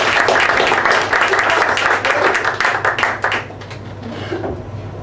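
A comedy club audience gives a burst of loud, dense applause that thins out over a few seconds. Scattered cheers and voices rise over the clapping.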